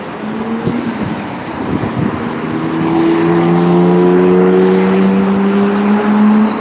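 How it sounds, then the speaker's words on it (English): Road traffic passing through a busy intersection, cars rolling by close and loud with rising engine hum and tire roar, one vehicle accelerating steadily toward the end. "Lots of eastbound traffic."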